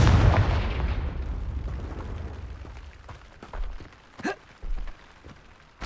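A Confringo blasting spell explodes in Hogwarts Legacy: a loud, deep boom at the start that rumbles and fades away, followed by a few smaller pops and thuds.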